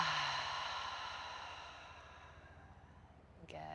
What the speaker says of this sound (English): Full exhale out